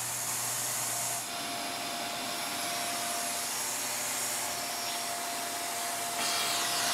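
A vacuum cleaner's motor whines steadily close by, a loud, constant drone with a high tonal edge that barely changes over several seconds.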